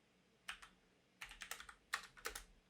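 Quiet clicking of keys on a computer keyboard, a few short bursts of typing separated by brief pauses, heard close.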